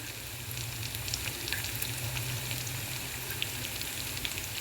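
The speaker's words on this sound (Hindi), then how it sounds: "अब हमारा इसमें लहसुन अदरक डल गया है, प्याज डल गया है। अब इसको हम कुक करके" Garlic, ginger and onion frying in a pot for Punjabi-style dal makhani, a soft continuous sizzle with faint crackling pops and a low background hum.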